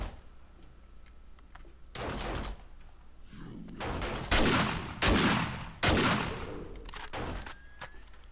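Gunfire in the video game 7 Days to Die, several separate sharp, loud shots in uneven succession with brief tails, set against a quiet background.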